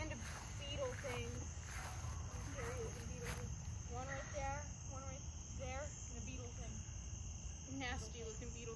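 Crickets chirp in short repeated trills through an outdoor night scene, fairly faint under a steady high insect drone and low background noise.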